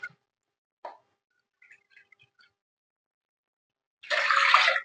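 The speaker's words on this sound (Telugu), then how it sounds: "3 కప్స్ వాటర్ అయితే పోస్తున్నాను." Water is poured from a cup into a pan for making rice-flour chekkalu: a few faint clicks and taps, then a short splashing pour at the end.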